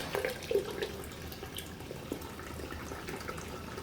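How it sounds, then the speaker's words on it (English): Tap water running steadily and fairly quietly into a sink while cooling homebrewed NEIPA wort, a continuous soft splashing flow with a slightly louder burst near the start. "the trick would be to turn the water up from the tap a bit"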